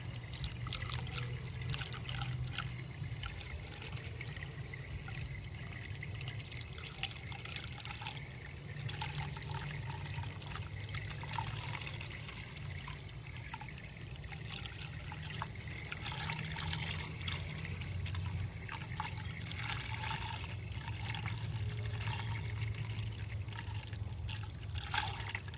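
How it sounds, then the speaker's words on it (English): Coolant trickles steadily as it is poured into the radiator of a 2015 Town and Country during a thermostat replacement, a continuous close liquid stream with a low hum beneath and no talk. "now we are going to fill up the radiator until it looks like it's completely"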